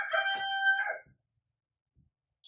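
Roosters crow in a loud, close burst lasting about a second, with a faint trailing call afterward and near silence around it.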